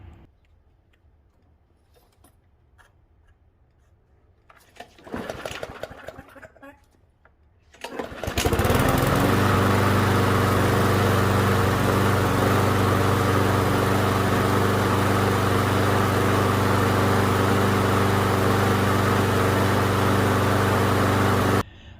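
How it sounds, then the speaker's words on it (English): A lawn mower engine, previously running rough and since repaired, is pulled and sputters briefly, then catches and roars at a loud, steady idle that runs on without stopping. "let me start up the lawnmower so you guys can see how it's running now"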